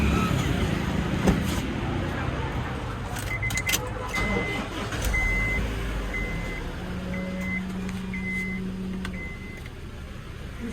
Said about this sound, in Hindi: गाड़ी स्टार्ट करके चेक कर सकते हैं?